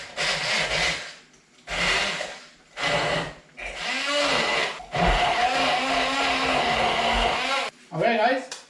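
A blender whirs through spinach sauce with olive oil, salt and pepper, running in several loud bursts with short pauses, then a longer steady run, with brief talk at the end.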